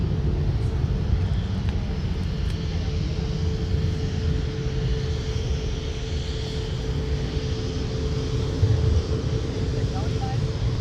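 An Icelandair airliner taxiing on Taxiway Mike at MSP airport produces a steady, loud jet engine roar with a low rumble, holding constant throughout with a brief slight swell near the end.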